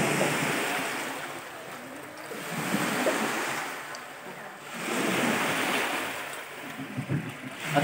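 Sea waves washing ashore on the coast of Mindoro, looking toward islands offshore, swelling and receding in slow surges every few seconds with steady surf hiss and some wind buffeting the microphone.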